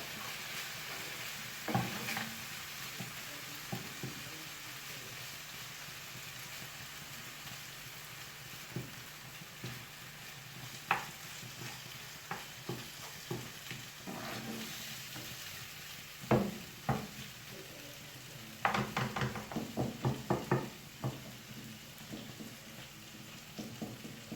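Homemade kebab meat frying gently over low heat in a pan, with a soft steady sizzle and occasional clattering scrapes of stirring that grow busier toward the end; no voices.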